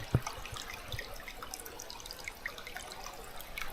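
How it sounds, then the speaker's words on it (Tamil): A stream near Maryvine Falls on Vancouver Island trickles and burbles quietly, with scattered small drips and splashes over a soft, continuous flow. "இந்த தண்ணியோட சத்தமும் இந்த அமைதியும் ரொம்ப சூப்பராக இருக்குது"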